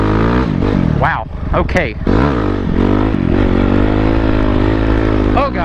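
A motorcycle with a still-cold engine revs hard in second gear for uphill wheelies, loud and close, its engine note climbing and dropping in sharp sweeps while a rider briefly speaks.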